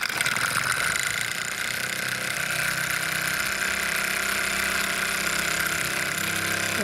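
Bowman M135 model steam engine on its first steaming, giving a steady, continuous mechanical chuffing and hiss that stays close and fairly loud throughout, with no voices.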